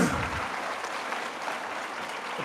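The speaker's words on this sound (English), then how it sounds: "Let's give our math award winners another round of applause." A school audience at a fifth grade promotion ceremony gives a round of applause for math award winners, a dense, steady patter of many hands clapping that stays fairly loud for a few seconds before easing slightly.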